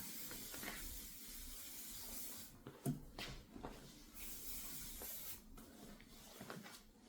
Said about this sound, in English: Give a little spray with some silicone spray.